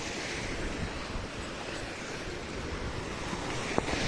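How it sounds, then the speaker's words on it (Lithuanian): Sea surf washes onto a rocky shore in India as a soft, continuous hiss, fairly faint and mixed with light wind noise. "Aha, čia klastinga jūra."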